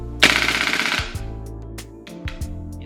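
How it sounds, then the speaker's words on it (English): A VFC SCAR-H gas blowback airsoft rifle with an HPA conversion fires a rapid full-auto burst indoors, loud and close, followed by a few separate mechanical clacks as the bolt cycles. "what I like a lot about the SCAR Heavy is the full auto, which works really good in this gun"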